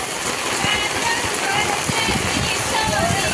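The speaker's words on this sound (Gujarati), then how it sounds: "જોરદાર વરસાદ છો" A hard downpour hisses loudly and continuously nearby, with faint voices and scattered splashes mixed into the wash of rain.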